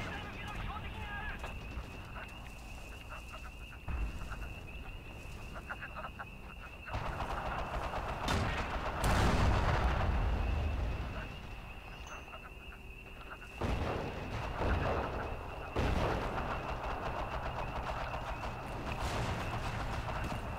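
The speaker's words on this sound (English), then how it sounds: "Where the fuck is that gun shooting from?" Destroyer gun shells firing in the Forgotten Hope 2 game, heavy booming blasts at intervals amid continuous battle noise, with people talking over the action.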